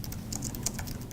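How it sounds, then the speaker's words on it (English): Keys clatter on a computer keyboard in a quiet student government office on a Saturday, a steady run of soft close clicks and taps with no voices. "Only the sounds of a keyboard fill a rather quiet student government office on a Saturday."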